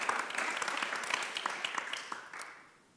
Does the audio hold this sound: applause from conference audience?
yes